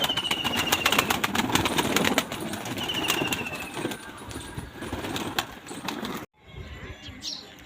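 Outdoor bustle with pigeons released from their setup to peck grain, cooing and fluttering their wings, mixed with faint chirps and a low engine hum, before the sound cuts sharply near the end.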